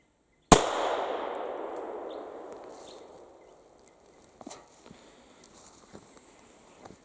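A single sharp, loud report from an 1860s .41 rimfire derringer, fired outdoors, its blast ringing out and decaying over a few seconds, followed by faint scattered footsteps and small knocks.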